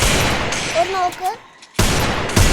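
Video game gunfire crackles in two dense bursts at the start and end, with a quiet gap in the middle. A short tonal in-game sound plays during that gap.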